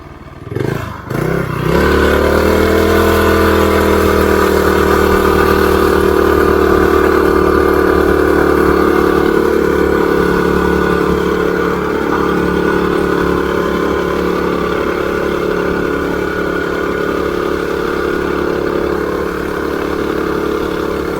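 A revived quad's engine, fitted with a torque converter, fires up after a few rough bursts. It then settles into a loud, steady mechanical drone that runs for about twenty seconds with little change in pitch.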